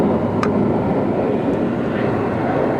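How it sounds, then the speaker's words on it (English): Heavy 60,000-pound aircraft tow tractor at Philadelphia International Airport, with a loud, steady roar of engines filling the apron and a couple of faint brief clicks, no talk. "And there's the tractor."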